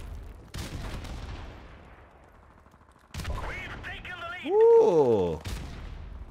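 Gunfire and grenade blasts in a Call of Duty 4 Modern Warfare Remastered team deathmatch on PS4: sharp bursts of shots and booming explosions come in separate clusters, with a brief exclamation and other game effects between them.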